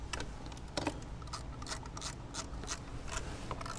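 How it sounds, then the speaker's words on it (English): Ratchet with a 10 mm socket loosening hold-down nuts on a glow plug control module of a Ford 6.0 Powerstroke, quick faint metallic clicks in uneven bursts, close up and quiet, with no talking. "I take my ratchet with a 10 millimeter socket on it."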